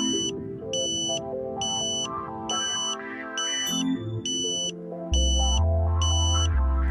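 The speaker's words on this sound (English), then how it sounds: "You then hear the locking tone." A satellite antenna alignment meter emits a steady, repeating electronic locking tone in evenly spaced beeps over about seven seconds. Under it runs a busier layer of music-like tones, which becomes a loud low hum near the end.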